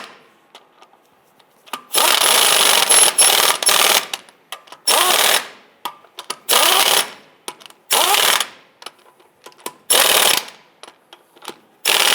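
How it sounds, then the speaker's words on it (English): Lug nuts on the driver's side rear wheel of a 1995-2001 Ford Explorer being tightened, heard as six or seven loud bursts of ratcheting, clicking tool noise separated by short pauses, close up with no talk. "Go ahead and torque down our driver's side rear wheel here to 100 foot-pounds."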